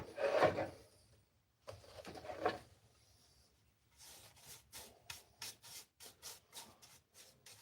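A small Ridgid pinch sander works wood during a cross build, giving two long rasping bursts followed by a run of short, rhythmic scrubbing strokes, close and moderately loud with no talk.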